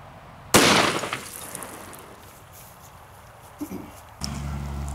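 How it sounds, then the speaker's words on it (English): A single 10mm handgun shot fires at close range: one loud, sharp crack with a short ringing decay, followed by quieter handling noises and a later thud. "We're going to go ahead and shoot it with a 10mm"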